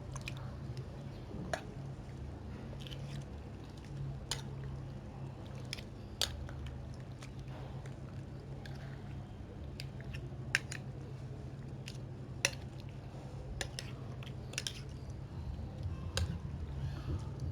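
Chicken pieces are mixed with spices and garam masala for a creamy handi boti, giving faint, wet squishing and soft clicking sounds scattered irregularly over a quiet kitchen background.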